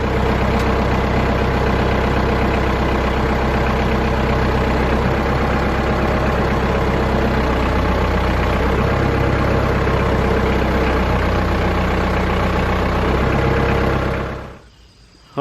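A tractor engine idles steadily and loudly nearby, a constant low rumble with no talk, then cuts out abruptly near the end.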